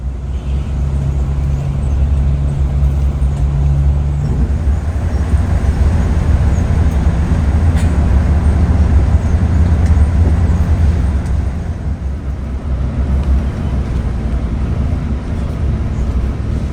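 Inside an aging Scania coach bus on a morning trip from Cibinong to Jogja, a steady, loud, low engine and road rumble continues throughout with no clear speech.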